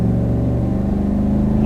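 A 2019 GMC Sierra AT4 crew cab pickup with the optional 6.2 engine accelerates, its deep, steady rumble droning loud and close from start to finish with no one talking.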